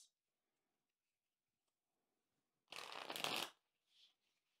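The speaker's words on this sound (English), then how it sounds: "So we're going to shuffle our cards and get into this." A quiet pause, then a quick riffle of tarot cards being shuffled up close, lasting under a second, followed by a brief soft shuffle.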